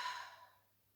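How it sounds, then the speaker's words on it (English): A single soft exhale during yoga relaxation, a faint breathy release that fades out over about a second in a quiet room. "breathing out, relax the body"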